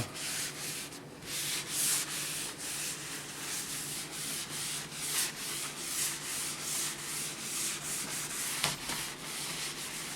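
Continuous rough scratching of sanding plaster filler on a plaster wall, with rhythmic back-and-forth strokes, close and steady throughout, no voices.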